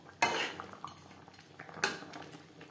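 Fried tilapia pieces going into a pan of eggplant gravy, two sharp metallic clanks of utensil against pan with lighter clinks and faint shuffling between, close and fairly quiet.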